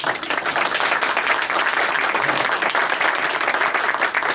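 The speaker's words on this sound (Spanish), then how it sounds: "pido para darle la bienvenida un cordial aplauso" Dense, steady applause from an audience welcoming a guest to an interview event on a university campus, a continuous wash of many hands clapping at full volume, close and even throughout, with no voices rising above it.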